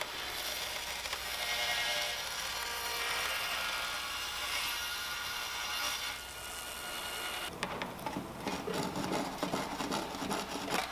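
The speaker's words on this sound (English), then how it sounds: "And again, finished it up with the handsaw." A handsaw works through the wooden body of an old acoustic guitar, producing a continuous close, scratchy rasp for several seconds before the stroke pattern changes to a choppier, more broken texture.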